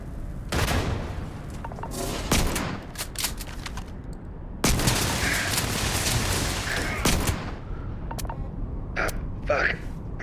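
Rapid gunfire bursts and explosions in a chaotic sci-fi firefight from the video game Starfield, loud and sustained with dense overlapping shots, a big blast midway, and voices shouting under the shooting.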